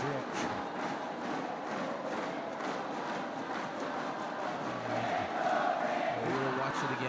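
Badminton arena crowd at a mixed doubles match, Indonesian pair playing, cheering and chanting as a steady dense roar throughout, swelling slightly near the end.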